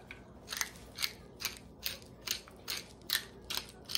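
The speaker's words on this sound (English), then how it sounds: "Some pepper." A pepper grinder twists over raw steak for Swiss steak, giving about eight evenly spaced crunchy grinding bursts, close and moderately quiet, with no talking.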